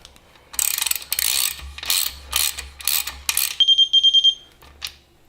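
A ratchet with a 17mm socket tightens the engine cap on a 1969 Porsche 911T during an engine rebuild, giving several close bursts of rapid clicking, then a quick run of sharper, evenly spaced ticks.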